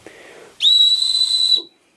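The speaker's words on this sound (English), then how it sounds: "It also has a whistle on it." A survival whistle from a get-home bag gives one shrill, steady blast lasting about a second, loud and close, with quiet handling noise before and after.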